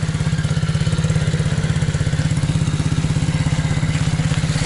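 A motorcycle engine runs steadily with a fast, even pulsing throb during a riding lesson, close and moderately loud, with no clear rise in pitch.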